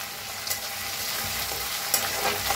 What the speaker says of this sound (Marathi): हिरवी मिरची लसूण बारीक असं वाटून घेतलं होतं बघा, ते बी छान असं भाजून घ्यायचं तेलात